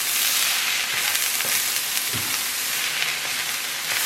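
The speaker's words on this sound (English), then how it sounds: "we're just going to keep stirring this as it cooks down into a paste" Mushrooms and fresh marjoram cooking down into a paste in a pan for vegetarian kotletai: a continuous hissing sizzle close by, broken by occasional soft scrapes and thumps of stirring, with no talking.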